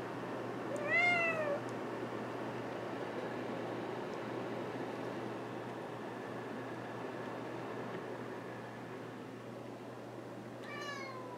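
Two short bursts of cat meows, one near the start and another near the end, over a steady low hum and background noise.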